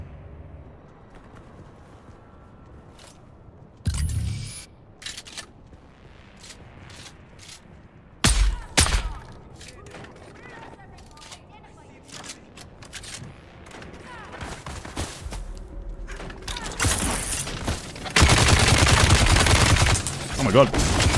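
Gunfire from a player's gun in Dune Awakening, a few loud isolated shots early on, then a sustained heavy burst near the end, with a player speaking at times.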